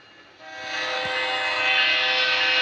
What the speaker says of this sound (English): What kind of train's that?